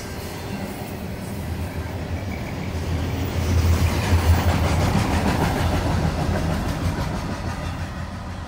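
CSX freight train passing at Moreland, Georgia, a steady low rumble of wagons rolling by with rhythmic clatter that swells in the middle and carries on throughout.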